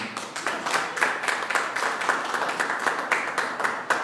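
A church congregation claps in a steady, fairly fast rhythm, a dense even patter of many hands held at moderate loudness throughout.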